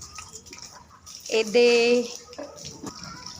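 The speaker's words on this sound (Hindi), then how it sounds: "देख सकते हो बर्तन वर्तन धोना शुरू हो गए घर मन के पानी बंद होने के बाद।" Tap water runs and splashes while dishes are washed at home after a severe storm in Kawardha, Chhattisgarh, rising briefly to a louder gush mid-moment amid clinks, with a person speaking quietly around it.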